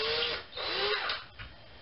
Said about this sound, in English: A little drill action.